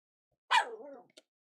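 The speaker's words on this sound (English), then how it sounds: "What are you barking like that for, dog?" A dog gives a single sharp bark that trails off into a short whine, close and fairly loud, followed by a faint click, with no one speaking.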